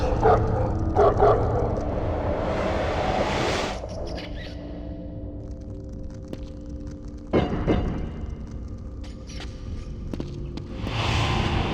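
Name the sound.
hounds barking in video game The Suffering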